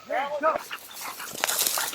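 Hunting dog on a pheasant hunt giving short yips and whimpers up close at the start, followed by brief rustling and someone talking.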